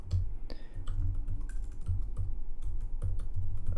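Fingers type a sudo nano command for an Apache web server configuration on a computer keyboard, with a quick irregular run of close, crisp key clicks and thumps and no talking.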